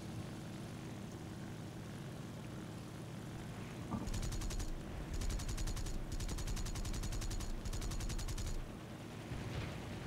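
Bursts of rapid cannon fire from a Kawanishi N1K2 Shiden Kai fighter in War Thunder, several fast rattling volleys cutting in over the drone of a propeller engine and then stopping.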